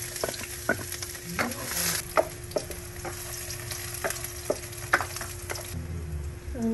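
Garlic fries in hot oil with a constant close sizzle, punctuated by frequent sharp stirring clicks and scrapes against the pan, with no voices.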